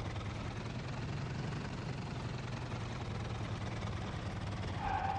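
Steady low propeller-engine drone of a World War II aircraft throttled back for a gliding landing in the flight sim IL-2 1946, a constant near rumble with no voices.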